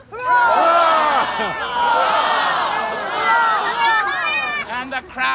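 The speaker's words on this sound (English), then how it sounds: "The crowd went wild." A crowd at the Widcombe Christmas lights switch-on cheering and shouting loudly together, a sustained roar of many voices that swells and fades over several seconds.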